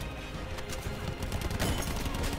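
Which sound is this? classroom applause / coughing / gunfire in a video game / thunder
gunfire in a video game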